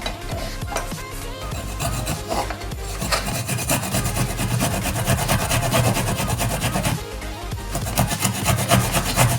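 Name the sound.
grating fresh ginger on a grater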